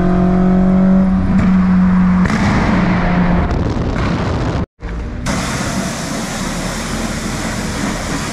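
A twin cam car engine starts and revs hard at a wet Mondello Park drift event, loud and close, with rough roaring bursts and a brief cutout midway before it picks back up.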